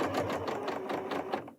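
A Janome 9480 sewing machine stitches fabric patches with a rapid, steady mechanical whir that runs close and clear for a short burst, then stops abruptly.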